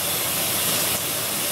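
Tap water runs steadily onto a makeup sponge to soak it, a continuous close, fairly loud broadband hiss with no talking.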